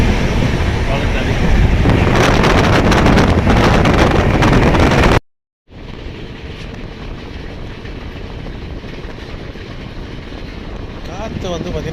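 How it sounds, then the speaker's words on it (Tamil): Strong wind roars loudly against the microphone during a train journey from Pattukkottai to Tenkasi, with rumbling rail noise throughout, cutting out briefly midway before the gusting and train rumble resume just as loud. "காற்று வந்து பார்த்திங்கன்னா பயங்கரமாக அடிக்குது."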